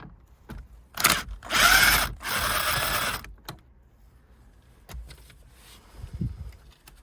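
A power driver with a T20 bit removes screws from the radio of a 2012 BMW 1 Series F20, a Japanese import, giving two close bursts of whirring with pauses and small clicks of handling in between.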